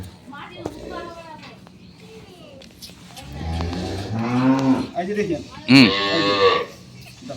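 Dairy cows and calves of an improved breed on a farm moo loudly and close by, with several drawn-out calls that swell toward the end. Someone speaks briefly near the start.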